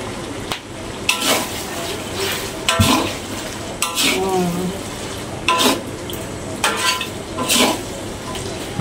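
A spatula scrapes and stirs food in a hot pan with sugar and sweet soy sauce, giving several distinct strokes over a low sizzle, with a few brief bits of voice in between.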